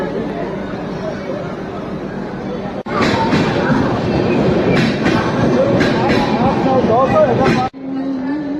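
A train moves through a station with continuous rumbling and clickety-clack, loud and close, while people chatter and talk over it; the sound cuts abruptly twice.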